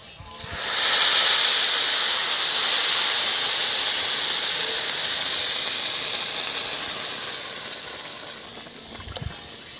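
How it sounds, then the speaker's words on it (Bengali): Water poured into a hot pan of fried rice for homemade pulao, erupting into a loud steady steam hiss that holds for several seconds and slowly fades, with faint clatter near the end. "এখন আমি জল ঢেলে দেবো"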